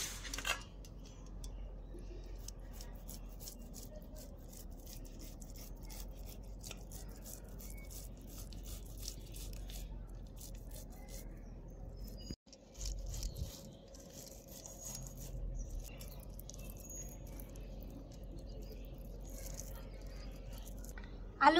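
Two boiled potatoes are rubbed against a kitchen grater in repeated soft, faint scraping strokes, with a brief clatter partway through and a quiet room behind.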